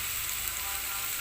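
Onion and bitter gourd pieces fry together in a pan over medium flame, giving a steady, faint hiss and sizzle with no break.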